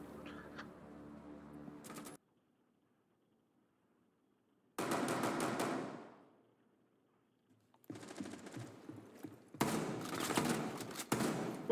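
Bursts of video game gunfire from a battle-pass shooter, crackling in short rapid volleys separated by gaps, the last stretch denser and louder, fairly distant in the mix.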